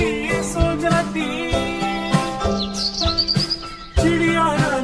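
Chirping bird calls and a rising whistled tweet sound within the music of a Hindi children's cartoon song about a little bird, bright and close amid a busy melody.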